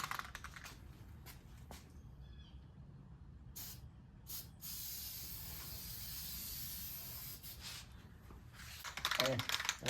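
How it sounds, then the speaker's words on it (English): An aerosol can sprays primer onto the cracked dash of a 1974 Trans Am, a long soft hiss in the middle of the clip with taps and handling noise around it. "All right, let's spray the primer to outlook."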